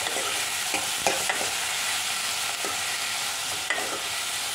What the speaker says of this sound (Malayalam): ഒരല്പം ഉപ്പ് ഈ പച്ചക്കറിയിലേക്ക് ഒന്ന് പിടിക്കാൻ വേണ്ടിയിട്ട് ചേർത്ത് കൊടുക്കാം. നന്നായിട്ടൊന്ന് വഴറ്റി കൊടുക്കാം.